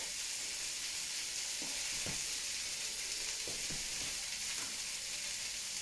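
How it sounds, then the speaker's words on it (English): Broccoli, white onion, red pepper and garlic sizzle in a hot pan during a stir fry, a steady bright hiss with a few scraping stirs and clacks of the utensil, close and unbroken by talk. "red pepper, I'm actually going to put the garlic in as well."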